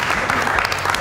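People at a pre-production meeting for a fashion show clap and cheer in a brief burst, close, lively applause mixed with excited voices over one quick second.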